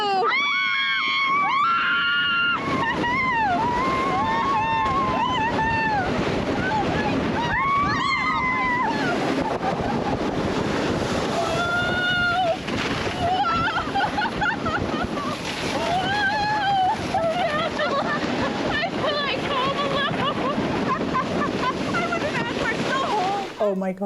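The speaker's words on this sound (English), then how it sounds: "Listening to her scream the whole way down." A woman screams on an amusement ride as it plunges down, her high, wavering shrieks sustained and loud over roaring wind and rushing noise, with other riders' voices mixed in.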